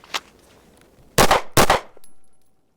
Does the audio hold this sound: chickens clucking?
no